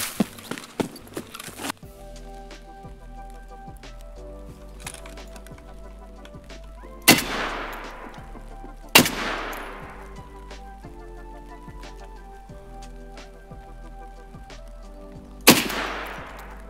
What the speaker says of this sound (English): so there's some shots in there